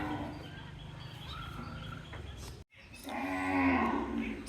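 Cattle bound from Naogaon to Dhaka moo during loading, several loud bellows rising and falling through the clip, with a brief gap midway and faint bird chirps in the background.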